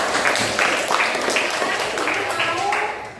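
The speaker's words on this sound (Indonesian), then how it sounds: "Ya, tepuk tangan dulu Afika." Classroom applause for a student during a maths lesson on fractions: a group of children clapping in a brief uneven burst, close and moderately loud, with a voice underneath and the clapping fading at the end.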